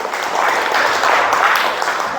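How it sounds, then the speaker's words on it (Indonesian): A classroom audience of students bursts into steady applause, a dense wash of many hands clapping continuously and fairly loudly with no pauses, filling the whole moment. "berikan aplaus untuk kita semua"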